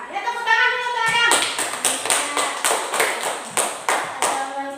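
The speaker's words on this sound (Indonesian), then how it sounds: "Ya, tepuk tangan dulu, Adam" Schoolchildren clap in unison in a classroom, a rhythmic series of sharp, close hand claps after a teacher's voice, roughly a dozen distinct beats over a few seconds.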